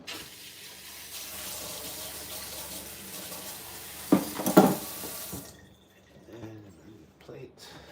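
Tap water runs steadily into a sink as a dish is rinsed, with a brief louder splash near the end before the water cuts off and a person speaks quietly.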